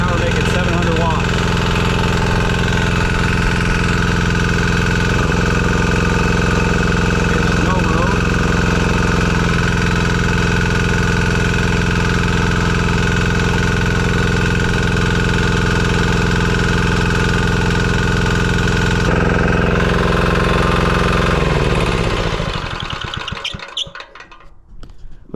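A diesel engine generator from Amazon runs loaded at about 700 watts, a loud, steady droning hum with a tonal whine that holds for most of the stretch before winding down and cutting out near the end.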